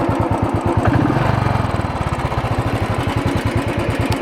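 A motorcycle engine idles with a tappet noise fault, a loud, close, steady chugging with fast regular pulses and a mechanical ticking riding over it, briefly rising in pitch near the start.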